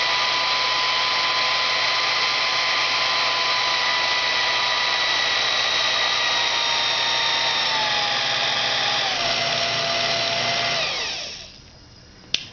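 A variable-speed machine driven by a 1/5 hp Dayton motor runs with a smooth, steady whine whose pitch slides down as it slows, then spins down to near silence.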